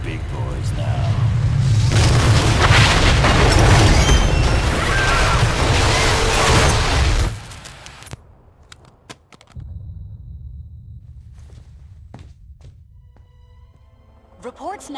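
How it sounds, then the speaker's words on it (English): A massive explosion in the Marvel Ultimate Alliance 2 video game roars loud and sustained for several seconds, then cuts off abruptly into near silence with faint scattered clicks and thumps afterward. "indicate a massive explosion in a residential neighborhood"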